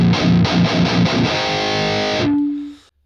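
A high-gain Neural Amp Modeler guitar amp capture set to a Crunchy Mids tone plays loud, distorted palm-muted chugs in a quick rhythm, then rings out on one sustained chord that decays to silence.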